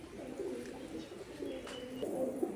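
Group of pigeons feeding together, soft repeated low cooing carrying on steadily and fairly faint against a quiet background.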